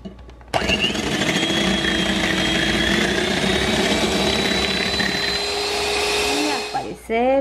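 An electric hand mixer whips cake frosting until fluffy, a loud steady motor whir running for about six seconds before slowing and cutting off near the end, with no talk over it.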